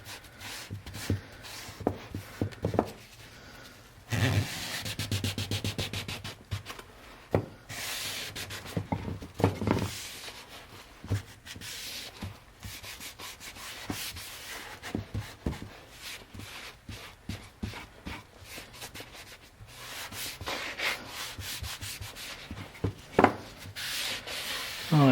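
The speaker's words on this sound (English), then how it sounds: "You can also just apply your stain directly to the wood and rub it around." Stain being rubbed by hand into a restored piece of wood with rough end grain, a steady scuffing and rubbing with bursts of harder strokes, close and moderately loud throughout, no talk.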